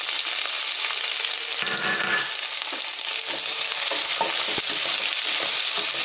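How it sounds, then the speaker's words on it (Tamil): Large onions sautéing in oil with bay leaves in a pan for chickpea biryani, a steady close sizzle with occasional stirring clicks and scrapes, no talking. "இப்போ இந்த வெங்காயம் நல்லா வதங்கி வரட்டும்."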